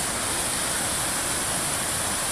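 A waterfall on the West Highland Way in Scotland pours in a dense, steady roar of rushing water, loud and close, with no voices over it.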